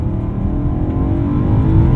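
A tuned 2010 BMW E92 M3 accelerating hard in second gear on a dirt road, its engine a loud, rising, steady roar heard close from inside the car.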